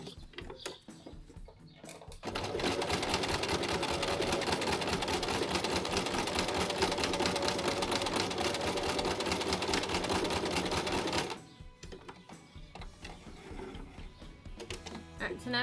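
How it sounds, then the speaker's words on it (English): A sewing machine stitches along an apron hem in one loud, steady, rapid run of about nine seconds. Quieter handling sounds come before and after it. "we're gonna run a stitch along here"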